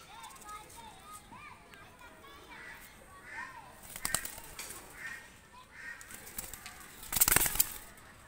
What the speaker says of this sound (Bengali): কবুতর দুটো আমি ছেড়ে দেখাচ্ছি